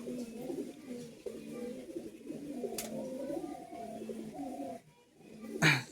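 High flying pigeons coo steadily in low, rolling calls, nearby and continuous, with a sharp click and a brief louder burst near the end.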